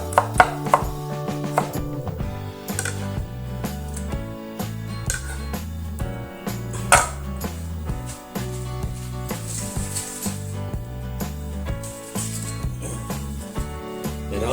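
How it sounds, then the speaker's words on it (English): A knife chops through radish-pork and vegetable spring rolls in a steady run of crisp, close cuts, backed by continuous music. "we use a knife to cut them like slice"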